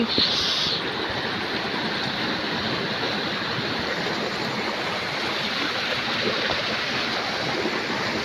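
Water from a roadside stream in Tulu Nadu during a rainy Saturday rushes steadily and close by, a continuous broadband flowing roar with no talk.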